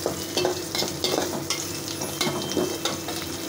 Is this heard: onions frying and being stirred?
yes